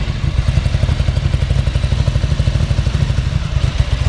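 A 1987 Ducati F1 750 TriColor Italian race bike idles loud and close, its engine thumping in a rapid, steady, slightly uneven pulse throughout with no talking.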